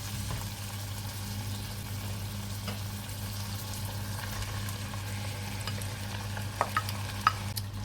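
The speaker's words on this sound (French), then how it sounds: "Je viens ajouter mes tomates cerises." Quiet steady sizzling of cherry tomatoes frying in a pan, with a few faint clinks and scrapes of stirring near the end over a low hum.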